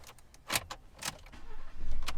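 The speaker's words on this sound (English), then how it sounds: "let's see if it starts the engine" Ford F-150 engine cranking and catching after a newly programmed spare key is turned, with short clicks and clunks beforehand, then the motor settling into a low idle near the mic.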